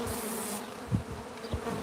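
Africanized bees buzzing around opened hives, a steady close drone with a few louder passes as individual bees fly near, no talking.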